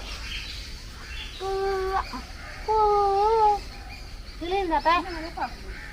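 A chicken gives a few drawn-out, wavering calls in three separate bursts, moderately loud over a steady outdoor background.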